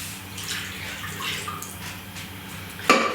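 Vegetable broth poured into a mixing container for a vegan pâté en croûte filling, a steady liquid stream with a sharper splash near the end.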